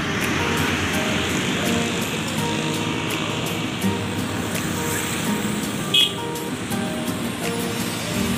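A tourist bus rolls past on a road near Tangerang in light drizzle, a broad steady roar of engine and tyre noise amid ongoing traffic, swelling briefly near the end.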